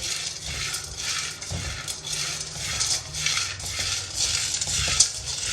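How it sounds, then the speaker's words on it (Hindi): Ingredients are fried over low heat and stirred in a pan, with rhythmic scraping strokes about twice a second over a soft sizzle and an occasional metallic clink. "तो हम इसको ना 2 मिनट तक इसको फ्राई करेंगे।"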